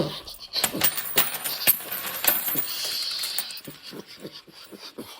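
Coins dropped and scattering onto a surface for a coin toning experiment, a loud jangling burst of metallic clinks and rattles that settle into a few lighter clinks, with no talk.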